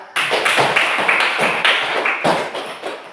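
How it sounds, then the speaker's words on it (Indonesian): Classroom applause for a student group after their discussion presentation, a dense spread of hand claps sustained for about three seconds, fairly loud and close with no speech over it. "Beri aplaus untuk hasil diskusi untuk kelompok 2"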